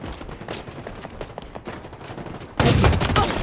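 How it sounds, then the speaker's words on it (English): Weapon fire in the shooter Halo Infinite: rapid, close, crackling shots in a fast burst, then a louder, denser blast of fire near the end, with no talk. "Oh, he's got a shotgun."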